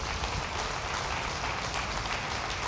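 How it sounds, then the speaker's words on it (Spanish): A church congregation claps in praise during a worship service, a steady dense wash of applause that fills the room at an even level throughout. "Dale fuerte el aplauso al Señor."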